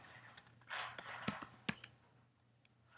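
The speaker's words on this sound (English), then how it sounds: "What I'm going to do in here is type the question I want them to answer." Someone types on a computer keyboard up close, with a few scattered, quiet key clicks and taps in irregular bursts against a faint background hum.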